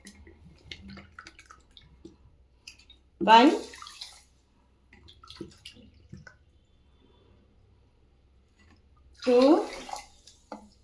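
Water poured by the cup into four cups of sugar for gulab jamun syrup: two short splashing pours a few seconds apart, close by, with someone talking between them.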